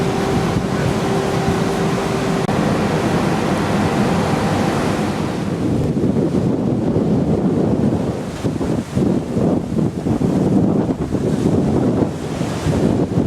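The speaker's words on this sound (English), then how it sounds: "the wind was getting up, and we were moving along steady 7 knots, with the wind really bellowing out the sails." Strong wind buffeting the microphone on a sailing cruise ship moving at about seven knots, a loud continuous roar with rushing sea wash beneath, gusting and fluttering in the latter half.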